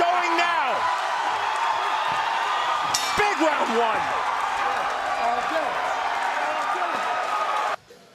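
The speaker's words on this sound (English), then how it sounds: "This Oklahoma crowd is going now" Oklahoma crowd at an MMA fight roaring and whooping in a dense, sustained wall of noise, with a commentator's voice running over it and a sharp impact partway through.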